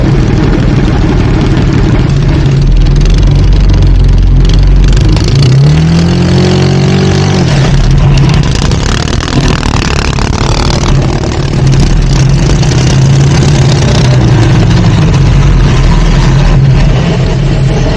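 A Sears dragster engine roars loud and close through a full run to the end, a rising rev sweep standing out partway before it settles into a sustained drone, with no talking.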